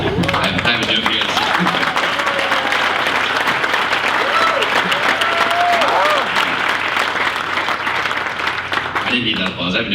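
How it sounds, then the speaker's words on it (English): A crowd at a masquerade ball gives a speaker loud, sustained applause, with many hands clapping continuously and a few whistles or shouts rising above it before it tapers near the end. "I didn't need that applause."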